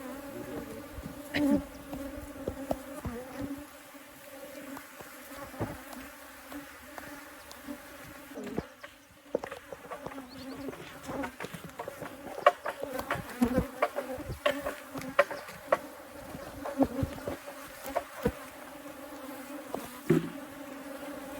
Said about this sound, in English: I feel like there's bees on my back